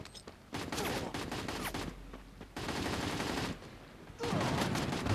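Bursts of gunfire from a firefight on a bridge in a duo battle royale video game tournament, rapid volleys crackling in dense clusters separated by short lulls, fairly loud and with no talking.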